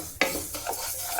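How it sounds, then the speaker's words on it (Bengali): Lentils for khichuri fry in a hot pan, with a short sizzle and scraping stirs repeating quickly, close and fairly loud with no talking. "খিচুড়ির ডাল ভাজা হয়ে গেছে,"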